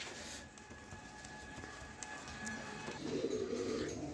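Club racing pigeons, a pair, coo softly in a low, rolling burst toward the end, over faint background hum and ambient noise.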